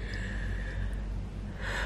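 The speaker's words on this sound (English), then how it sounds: "every time I come on the end of a day I'm yawning" A person yawns nearby at the end of a long day: one long, breathy, drawn-out intake of air with a soft exhale, and no talking.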